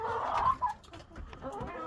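Laying hens cluck in a short, close burst inside a hen house in freezing winter weather, followed by softer clucks and rustling.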